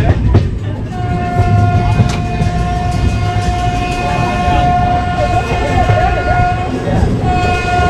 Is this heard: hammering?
no